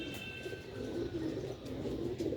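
Pigeons on a Sialkot rooftop coo in soft, low, repeated murmurs at close range, with a faint higher chirp early on; there is no talking.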